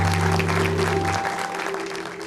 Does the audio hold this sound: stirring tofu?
no